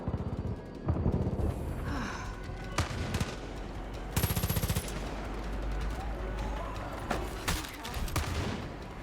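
Automatic gunfire in the video game Far Cry 5, dense bursts of machine-gun shots rattling near and loud amid other game noise, with a voice heard faintly now and then.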